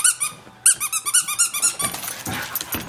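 Shih Tzu puppies making high squeaky yaps and small growls in a rapid, uneven string close by, ending in a rougher rustling noise.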